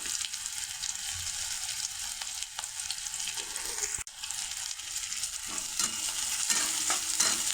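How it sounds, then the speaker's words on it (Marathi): Chopped onion sizzling and being stirred in hot oil, a steady bright crackle with occasional scrapes and clinks, close and fairly loud, with no talking. "कांदा लाल परतून घेते पटापट पटापट"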